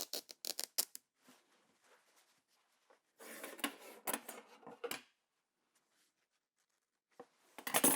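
Fabric torn by hand for an 18th-century style workbag, in short sharp ripping bursts at the start, a longer tear in the middle and another at the end, close with quiet gaps.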